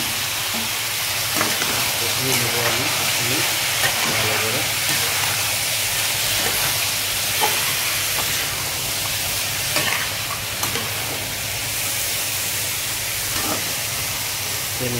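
Vegetables for Telugu bandi sarkaya curry (bottle gourd) frying in a hot pan, a steady loud sizzle and steamy hiss with occasional stirring clatter running throughout.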